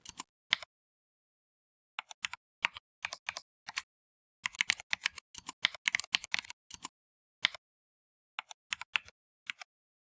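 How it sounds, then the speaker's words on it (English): Bursts of typing on a computer keyboard while writing Python code, quick clusters of key clicks separated by short pauses, close and clear with no talking. "Let me type 2 versions of this."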